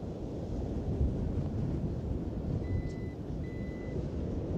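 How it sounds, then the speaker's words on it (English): Two short electronic beeps from a Volvo confirming a saved tailgate setting sound close together over a steady rumble of wind and background noise, the second following just after the first. "then you hear two beeps, and that means that the car has saved this preferred setting"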